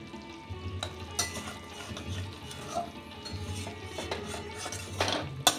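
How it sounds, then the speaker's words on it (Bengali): Pointed gourd (potol) with sesame being stirred and mixed in a cooking pan, a continuous scraping and soft sizzling with occasional spoon knocks against the pan, fairly close and steady throughout. "আর একটু আমি মাখা মাখা করে নেব"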